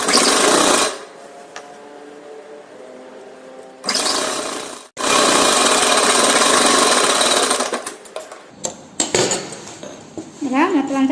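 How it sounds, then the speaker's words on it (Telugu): A sewing machine runs a stitch along a folded hem on a partywear lehenga made from an old saree. It comes in loud, close bursts of rapid stitching with short pauses between runs. "దీన్ని టర్న్ చేసుకొని దీనికి చిన్న ఫోల్డింగ్ చేసుకొని దీనిపై నుంచి ఒక స్టిచ్ వేసుకుంటూ రావాలి"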